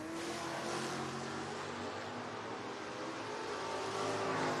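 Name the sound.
drag race, 1987 Ford Mustang versus 1970 Chevrolet Chevelle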